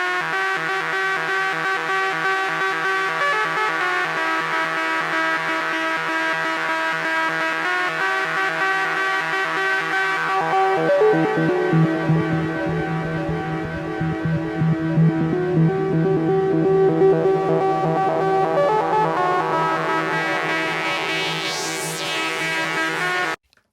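Arturia Arp2600 synth on the lead harbour preset plays a repeating MIDI sequence, a dense buzzy lead that shifts in tone and gains a low rumbling layer partway through before cutting off abruptly.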